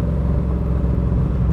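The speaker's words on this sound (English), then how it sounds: "Listen to those pipes, man. Doesn't it sound great?" Exhaust pipes of a 1965 Shelby Cobra Factory Five, heard as a steady, loud, deep rumble of an idling engine held close throughout, with no talk.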